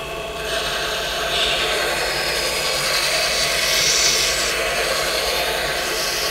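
Bocote wood spinning on a lathe is sanded through successive grits, giving a steady, close, continuous hiss and rush of abrasive on wood that swells slightly midway, with no talking.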